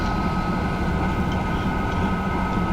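TGV high-speed train running through a tunnel in the Train Simulator Classic video game, a steady, enclosed rumble and rolling roar with a constant hum, even in level throughout and without voices.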